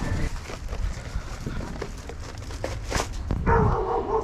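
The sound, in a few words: dog barking at the door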